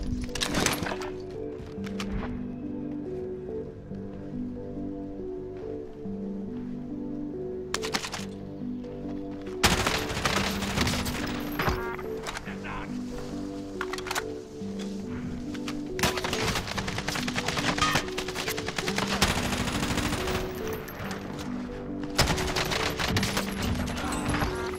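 Rifle shots from an L96A1 sniper rifle in a video game, sharp reports repeating at irregular intervals over a steady tonal music bed, fairly close and loud.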